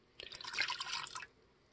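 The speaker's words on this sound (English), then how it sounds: "So our water now goes in the pan too." Water poured into a pan while making bee fondant, a brief trickling splash lasting about a second, close and fairly quiet with no talk over it.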